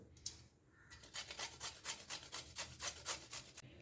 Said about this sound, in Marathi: आपण हा किसून घेणार आहोत